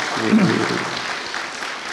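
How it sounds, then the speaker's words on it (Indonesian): An interview audience applauds a CEO with a steady burst of clapping that lasts about two seconds, with a voice faintly audible underneath. "Kita berikan aplaus dulu dong ya."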